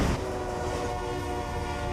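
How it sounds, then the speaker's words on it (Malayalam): A train passes in a film scene, its horn holding a loud, steady blare over a dense rumble of wheels for the whole two seconds. No one talks over it. "ഒരു ട്രെയിൻ ഇങ്ങനെ പോവാണ്"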